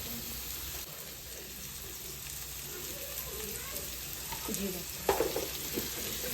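Onion and chilli frying in a pan for a spicy okra masala, a quiet steady sizzle with a couple of faint stirring knocks toward the end.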